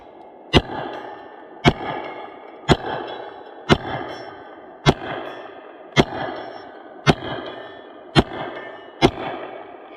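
Ten evenly spaced gunshots from an IWI UZI Pro 9mm pistol fired outdoors at a target roughly 65 to 70 yards away, each sharp crack followed by a short echoing tail, loud and steady in rhythm.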